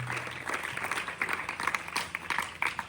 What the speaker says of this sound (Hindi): एक बार ताली बजा करके आए हुए अतिथियों का पुनः स्वागत कीजिए।